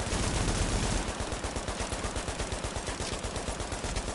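Rapid automatic turret fire from The Division video game rattles on without pause, dense and loud, with a rhythm of fast repeating shots throughout.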